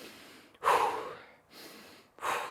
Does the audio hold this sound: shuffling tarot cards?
no